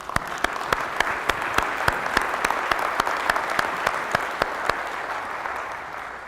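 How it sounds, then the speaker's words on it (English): Applause from a conference keynote audience: steady, dense clapping that is moderately loud, with sharp individual claps standing out and a slight fade at the end. "give these guys a round of applause, please"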